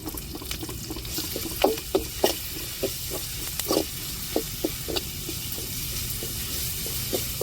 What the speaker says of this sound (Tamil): இஞ்சி பூண்டு பச்சை வாடை மாறுறதுக்கு நல்லா வதக்கி விட்டுக்கிடுவோம்